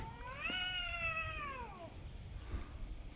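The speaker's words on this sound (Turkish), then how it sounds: "Burada kediler kavga etmeyin." A cat lets out one long, drawn-out yowling meow with a bending pitch during a cat fight in a park in Yeşilköy, Istanbul, close by, followed by quieter scuffling over steady outdoor background noise.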